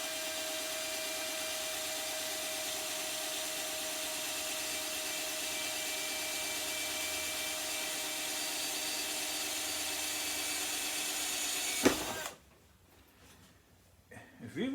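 A drill bit bores into material while making organ pipe rollers, a steady loud whirring grind running continuously for about twelve seconds before cutting off abruptly into near silence with faint handling noise.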